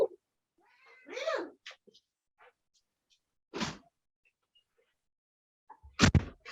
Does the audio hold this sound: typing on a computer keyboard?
no